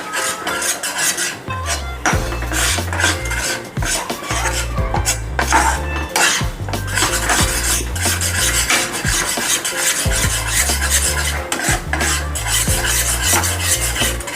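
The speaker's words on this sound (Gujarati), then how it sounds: "આ રીતે આપણે સ્લો ગેસ ઉપર જ મિક્સ કરવાનું છે." Gram flour halwa being stirred in a pan over a low flame, a spoon scraping and knocking against the metal in steady, busy strokes, close and fairly loud throughout with no talking.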